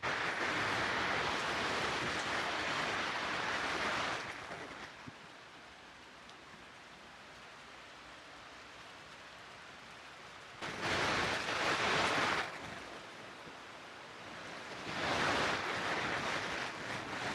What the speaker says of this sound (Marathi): खूपच जोरात आता पाऊस सुरू झालेला अचानक